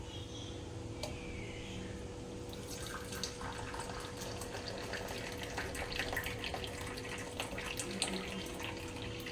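Freshly brewed tea being strained, a steady soft pouring and trickling of liquid that runs continuously and fairly quietly with no talking.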